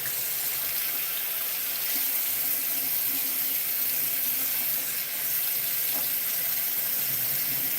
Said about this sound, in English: You kind of fill it with water all the way through so you know it's full.